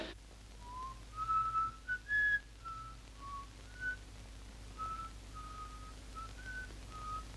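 Police whistle signal from a 1948 crime drama, sounding as a series of short, fairly faint tonal toots spread over several seconds in a quiet setting, not one long blast.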